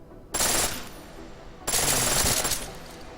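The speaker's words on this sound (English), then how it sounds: "Shoot all the targets in full auto mode." Two long bursts of full-auto gunfire at firing range targets in Deus Ex Mankind Divided, loud and close, each sustained rapid stream of shots separated by a brief pause.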